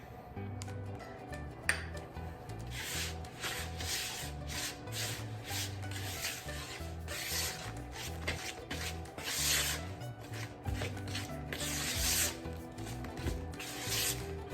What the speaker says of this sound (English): we're gonna add in the vanilla and mix that as well